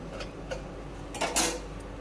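A metal lid comes off a pot of cauliflower curry cooked with homemade lentil dumplings, giving a few light clinks and one louder metallic clatter near the end over a quiet kitchen background.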